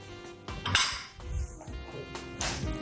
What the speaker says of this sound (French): Je mets mon oignon